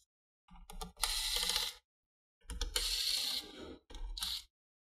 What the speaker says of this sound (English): So remove those screws and then just slide the battery towards yourself.